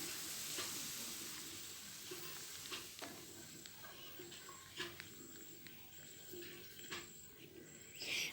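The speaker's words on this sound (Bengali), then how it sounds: "বেশ খানিকটা জল দিয়ে দেব" Water hits hot oil in a pan of vegetarian Bengali potato and pointed gourd curry, giving a steady broadband sizzle with occasional clinks and scrapes of stirring throughout.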